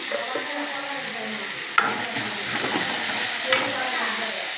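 Chopped tomatoes with salt cooking in a pan on low heat, a steady close sizzle with a couple of brief clicks of stirring.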